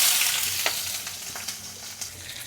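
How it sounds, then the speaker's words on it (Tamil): Fennel seeds and shallots fry in sesame oil in a pan, a bright crackling sizzle that starts strong and slowly settles, punctuated by a few quick stirring clicks, close and alone with no speech. "இப்போ நான் வந்து இதில் வந்து நல்லெண்ணெய் ஊற்ற போகிறேன் சோம்பு போட்டுக்கோங்க அப்புறம் சின்ன வெங்காயம்"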